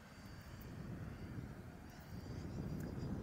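An electric ducted fan model jet flying a long slow roll, a faint, steady rushing whine that grows a little louder as it passes, no voices.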